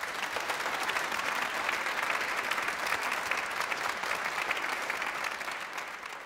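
Sustained audience applause for a performer, a steady dense wash of clapping from a crowd that holds evenly throughout with no talking over it.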